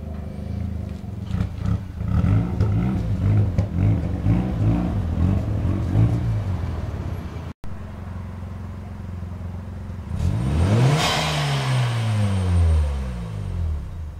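An orange Honda City Turbo II comes around the last corner and arrives with a sharp rev of its turbo engine, the pitch rising and falling as it passes close, after a stretch of rumbling idle and distant engine noise.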